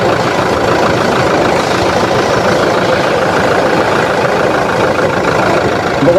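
Close, steady idle of a Toyota Fortuner diesel engine just fitted with a new timing belt, a dense, even rumble with no changes in speed, no voices and no other sounds.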